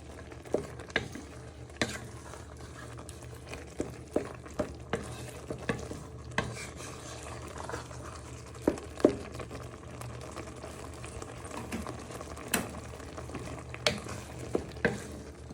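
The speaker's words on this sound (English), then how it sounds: "you want that to simmer and thicken for 5 to 10 minutes" Taco soup sauce simmers in a pot on the stove with a soft steady bubbling hiss, broken by occasional clinks and scrapes of a utensil against the pot.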